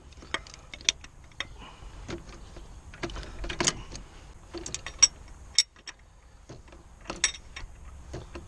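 Ratchet clicks in short bursts loosening the coolant temperature sensor on a Ford Fiesta MK6, close and crisp with metallic ticks and brief pauses, no talking.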